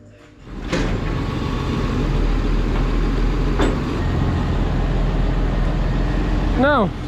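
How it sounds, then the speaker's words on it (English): Front PTO-driven compressor on a 23-year-old 6499 tractor runs steadily and loudly from start to finish with a constant mechanical drone, briefly joined by a short high tone near the end. "that is the front PTO compressor on the 6499"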